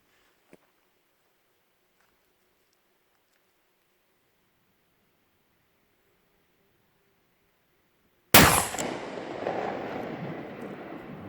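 A short-barreled single-shot shotgun with a 14-inch barrel fires one loud, sharp blast after a long near-silent stretch, the report trailing off in a rough, decaying rumble outdoors.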